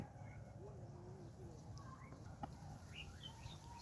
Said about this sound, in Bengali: পাখিদের কোলাহ ডাকাডাকি